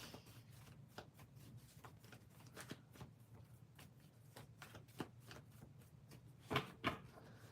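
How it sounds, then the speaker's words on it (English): Rapid riffling of a tarot card deck, repeated soft flutters with a few sharper snaps near the end, quiet and close, no voices. "Give me a moment to shuffle."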